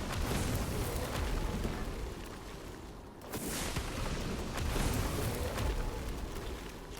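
A fireball explosion in the video game Code Vein: a dense, roaring blast that fills the clip, briefly dips near the middle, then surges again into a sustained rumbling burst, loud and close.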